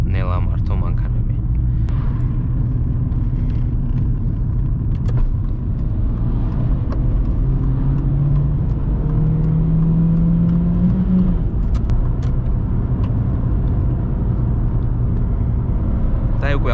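A car cruising on the autobahn at about 100 km/h, heard from inside as a steady low rumble and road roar with a faint rising engine whine partway through.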